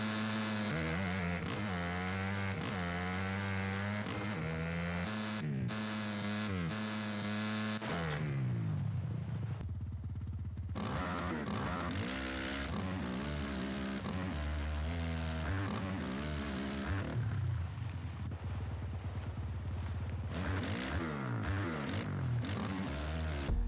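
Motocross bike engines from MX vs ATV Legends rev and drone almost continuously, pitch rising and falling with throttle changes and gear shifts, with a brief drop-off in the middle before the engines pick up again.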